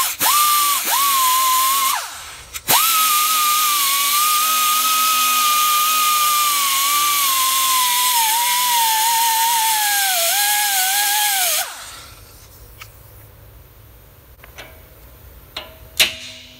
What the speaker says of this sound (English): take the die grinder and make a slice in this thing. Not all the way down to the spindle